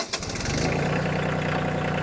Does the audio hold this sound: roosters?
no